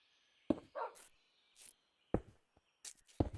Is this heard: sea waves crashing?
no